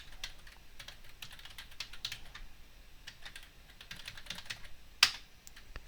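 Fingers type a passphrase on a computer keyboard, a quick irregular run of light key clicks close to the mic, ending with one sharper, louder keystroke.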